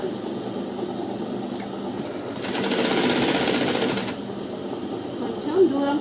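Sewing machine running a long stitch along a blouse hem, a steady mechanical whir that swells for a couple of seconds in the middle against quieter background noise.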